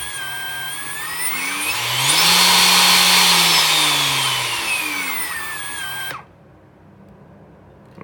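A Makita XCU03 cordless chainsaw motor whines up to speed, holds a loud high-pitched spin, then winds down and cuts off abruptly, leaving a faint hum.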